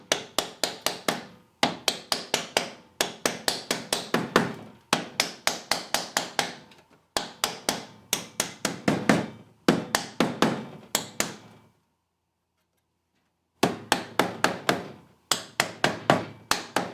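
Repeated hammer strikes on parts of a 3D printed spray booth, rapid close taps in several bursts separated by short pauses, with one longer silent gap near the end.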